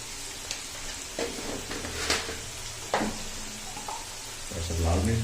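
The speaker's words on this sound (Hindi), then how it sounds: "आलू हमारे लाइट ब्राउन होना शुरू हो गए हैं" Potatoes frying in a pan sizzle continuously, with occasional stirring clinks and scrapes, and a voice speaks briefly near the end.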